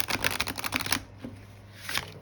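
A crow-themed tarot deck is shuffled up close: a quick, crisp flurry of cards slapping together, then a short pause and a brief second riffle, all fairly quiet.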